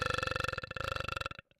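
A long, loud, close burp from a voice, a rough pulsing belch lasting over a second that cuts off abruptly, followed by a tiny faint sound.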